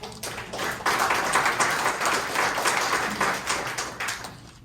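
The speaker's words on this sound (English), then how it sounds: "I like the clapping" Audience at a community land-use workshop about a Laurel Park SARCO building applauding, with a dense, even patter of many hands clapping at moderate loudness that swells and then tapers off.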